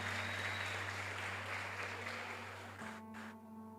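Church congregation applauding during a worship service, a steady wash of many hands clapping that fades slightly near the end over a low sustained hum.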